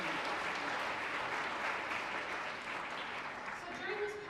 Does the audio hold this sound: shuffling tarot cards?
no